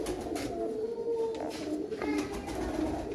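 Soft, repeated cooing of a Sialkoti pigeon, a female kept among breeding pairs, sounds close by over a steady low background hum, with a few rising and falling calls.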